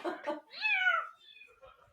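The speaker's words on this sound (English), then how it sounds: "I think the cat's telling you it's time to go." A cat gives a drawn-out, rising and falling meow right after a couple of short chirpy sounds, close and fairly loud, trailing off into faint noises at the end.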